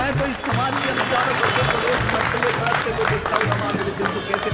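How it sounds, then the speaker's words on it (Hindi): Audience applause at a Ramabai Ambedkar birth anniversary gathering, dense continuous clapping with crowd murmur, loud and sustained throughout. "जोरदार तालियां"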